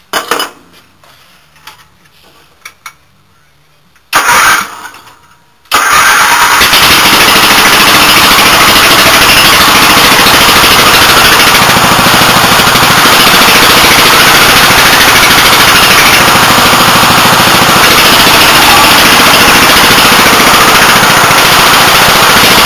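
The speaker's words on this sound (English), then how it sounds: "we'll start the engine without the muffler" A few faint bumps and clatters, then a small Montgomery Ward engine bursts into a loud, harsh, continuous rattling roar, run without a muffler and very close.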